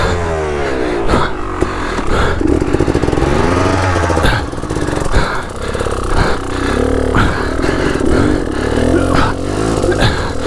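A dirt bike engine revs loud and close at a hare scramble race, a raw buzzing two-stroke drone rising and falling in repeated throttle blips throughout.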